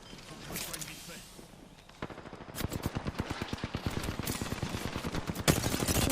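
Rapid bursts of automatic gunfire in the shooter Apex Legends, a quieter stretch with faint speech giving way to loud, evenly spaced shots in a fast rhythm, with a sharper blast near the end.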